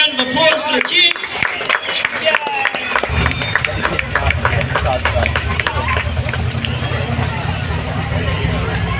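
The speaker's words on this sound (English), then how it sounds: "let's get a round of applause for the kids" A crowd at a monster truck show applauding the kids, loud clapping and cheering mixed with babble and a speaker talking over it, with engine rumble underneath.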